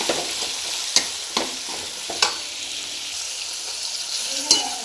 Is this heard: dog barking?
no